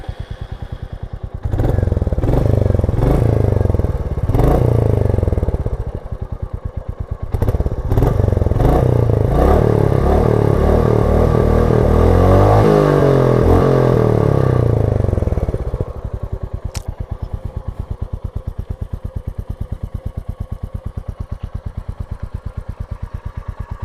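A 2025 Royal Enfield Meteor 350 motorcycle is cranked and fires up close by, revving with a deep throaty blare before settling into an even, thumping single-cylinder idle.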